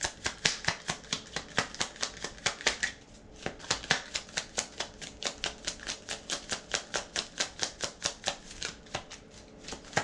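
Tarot cards are shuffled for clarifying cards in a fast, regular train of crisp riffle-like snaps, close and fairly loud, with a brief pause partway through and no voice.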